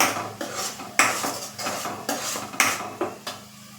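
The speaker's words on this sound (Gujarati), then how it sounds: "એડ કરી અને બરાબર મિક્સ કરી લેશું" A spoon stirs sev usal ingredients in a metal cooking pot, giving loud close clinks and scrapes in an irregular rhythm of repeated strokes, with no voices.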